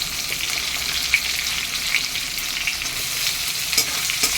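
Large onions hit hot oil with cumin seeds, giving a dense, even sizzle with scattered pops and light stirring, close and steady throughout.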